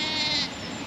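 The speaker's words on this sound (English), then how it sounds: "Oh, lovely sheep here" A single short, loud bleat from a sheep in an open field at Avebury, close by and heard alone.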